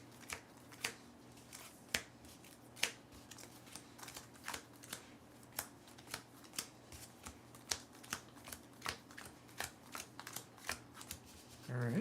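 A deck of game cards for the board game Neon Hope is shuffled by hand on a tabletop, giving a long run of crisp riffles and taps, close and quiet with faint background hum.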